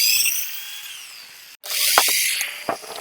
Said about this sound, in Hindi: अब मशीन को हम चालू करते हैं, ये देख सकते हैं आप।